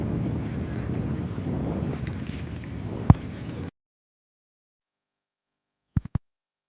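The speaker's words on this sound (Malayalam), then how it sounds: "നല്ല കാറ്റ്." Strong wind gusts by Ashtamudi lake in Kollam, a low rushing roar buffeting the microphone close up with one sharp thump, then cutting to silence broken by a few brief knocks.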